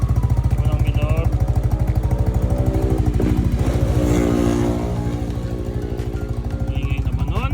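A Yamaha NMAX scooter fitted with a JVT v2.1 exhaust idles and revs up and down, a loud, close, steady throbbing engine note that rises, falls and settles back to a rhythmic idle.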